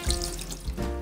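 Water runs from a tap into a container at a winter campsite, a steady close rush of flow for about a second with no talk.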